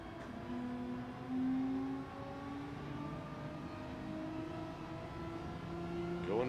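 Race car engine in Gran Turismo 7 at Brands Hatch, droning steadily with rising and falling pitch as it accelerates through gears, continuous and fairly close throughout.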